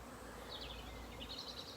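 A steady, close buzz of bees hums around a garden apiary, a continuous droning texture with slight wavering swells and no voices.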